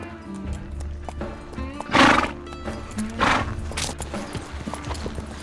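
Horse whinnies loudly twice during a ranch ride in Mexico, with hooves clip-clopping steadily underneath and a faint background of outdoor noise.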